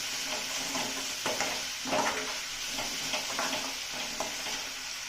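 Curry leaves frying in hot oil in a pan give a steady close sizzle, with a few brief stirring scrapes over the hiss and no voices.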